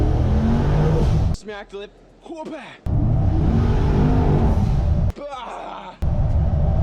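Twin-turbo C10 pickup truck pulling hard in second gear, its loud engine roaring in two long bursts broken by gaps where someone talks briefly.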